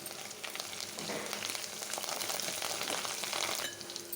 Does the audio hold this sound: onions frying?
yes